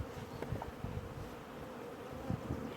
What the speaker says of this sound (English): Come on, bees, move.